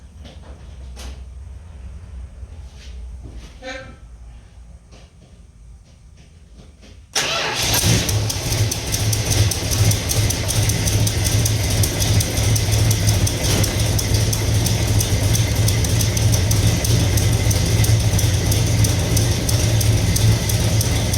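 A quiet stretch with faint clicks, then a 1967 Dodge Coronet's 440 Six Pack V8 with bottom-end noise and a leaking header starts and settles into a loud, rough, steady running rumble with knocking undertones.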